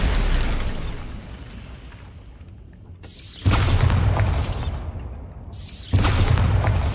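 Bombarda blasting spell detonating in the video game Hogwarts Legacy, two loud booming bursts about two and a half seconds apart, each following a quieter rumbling stretch, with no talk.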